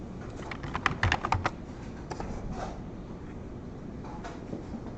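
A computer keyboard is typed on in quick bursts of light clicking keystrokes. A flurry of clicks comes early, then scattered taps follow over quiet room noise. The keys sound close and moderately soft, and no one speaks.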